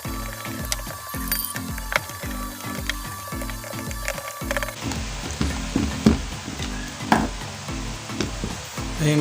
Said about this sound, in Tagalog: nilalagay na natin guys yung mga tornilyo nya